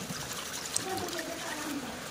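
Strained water is poured into a Konkani-style crab curry mixture, giving a soft, steady trickle that runs quietly throughout at low volume.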